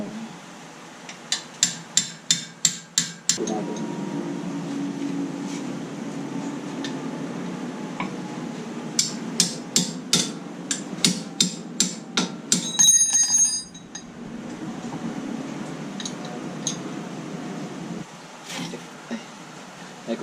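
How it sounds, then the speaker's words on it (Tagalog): A hammer knocks loose parts of a car's front disc brake, giving bursts of sharp, ringing metallic blows in quick series, separated by stretches of low background hum. "Kung hindi kaya na kuhan, gamitin ng martilyo kasi masigit ito eh."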